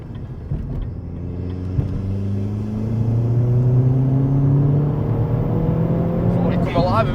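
A Vauxhall Astra VXR with an upgraded exhaust pulls from inside the cabin, its engine note rising steadily under acceleration as a low, continuous drone, with people talking over it.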